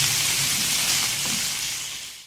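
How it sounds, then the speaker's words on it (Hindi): Raw chicken pieces frying for a white korma sizzle steadily in hot oil, a loud, even hiss filling the pan close up, with no talking. "अब हमने इसमें चिकन ऐड कर दिया, इसको हम अच्छी तरह से भून लेंगे"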